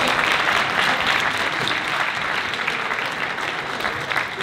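Warm audience applause at a town New Year's wishes ceremony in Banyuls-sur-Mer, continuous dense clapping that holds steady throughout.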